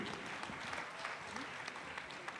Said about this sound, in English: Guys, come on, a round of applause for Murshid and group.